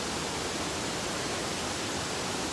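A jungle waterfall near Rangala in Sri Lanka's hill country roars with a dense, steady rush of falling water, loud and unbroken, with no voices over it.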